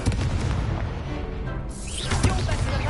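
A Confringo fire spell exploding in the video game Hogwarts Legacy, a dense booming blast that rumbles on, then bursts into a second crackling flare midway through.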